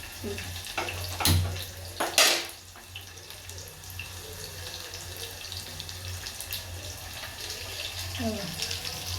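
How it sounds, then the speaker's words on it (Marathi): Indrayani rice is washed with water in a home kitchen, with running and splashing water throughout and a couple of louder sloshing bursts near the start. "तांदूळ घेतले तांदूळ धुवून घेते पाणी घालून ठेवले"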